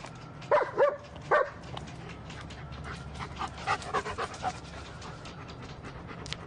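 A dog pants and snuffles close by, with a few short breathy bursts early on, then quicker, softer panting continuing over a low background hum.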